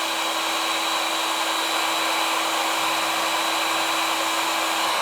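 Fan motor of a 14,000 BTU Fedders window air conditioner running flat out, a loud, steady whooshing roar with a constant hum, unbroken for the whole stretch.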